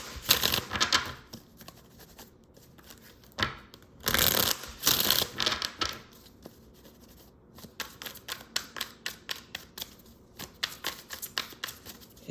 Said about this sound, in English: to shuffle this